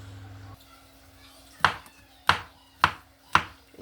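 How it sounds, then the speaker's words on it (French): Four sharp knife strikes chop mushrooms on a cutting board, evenly spaced and fairly close, after a quiet stretch with a low hum of kitchen background. "je vais terminer de découper mes champignons"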